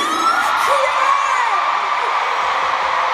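A big arena crowd at a concert at the Xcel Energy Center screams and whoops in one loud, sustained roar that fills the whole stretch with no break.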